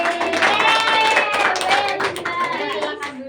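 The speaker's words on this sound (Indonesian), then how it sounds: "Tepuk tangan untuk Liza." Classroom applause for a student: a short burst of hand clapping from a group, close and bright, mixed with children's voices and cheering over about three seconds.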